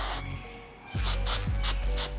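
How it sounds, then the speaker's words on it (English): Short bursts of spray adhesive hiss from an aerosol can in quick succession, close up, with a brief pause between each spritz. "just spray my adhesive in small sections"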